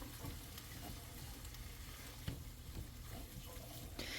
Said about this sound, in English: Get that stirred in there. I'll turn the heat up just a little bit to about a medium high.